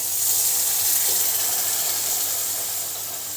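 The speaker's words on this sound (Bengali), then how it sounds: "এখন একটু পানি দিয়ে নেব।" Water poured into a hot pan of pangas fish bhuna with softened tomatoes sets off a strong, steady hiss of steam and sizzle. The hiss fades slightly toward the end, and no one speaks.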